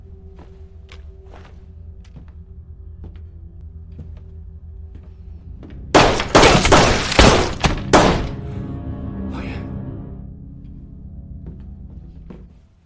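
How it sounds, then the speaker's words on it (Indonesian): Gunfire bursts in a gangster film scene, a dense volley of loud cracks packed into about two seconds mid-clip, standing out sharply against quieter background sound. "yang kemudian menembak semua bawahan yang tak becus mengawal putrinya"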